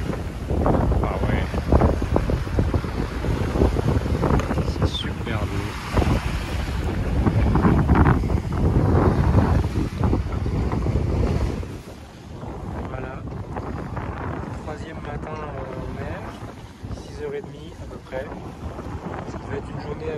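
Steady wind rushing and waves washing against a sailboat crossing the Atlantic at sea with a beam wind, loud throughout and easing slightly toward the end.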